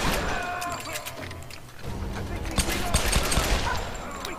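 Gunfire in the Tomb Raider video game on hard mode, dense rapid bursts of shots with sharp individual cracks and impacts, loud and continuous, with someone speaking over it.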